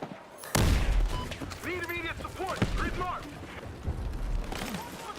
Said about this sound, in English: I don't even see who's shooting at me.